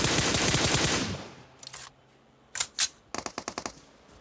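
PUBG Mobile gunfire: a long loud burst of automatic shots, then a pause with faint noises, followed by a few isolated shots and a quick string of rapid cracks, all close and without talk.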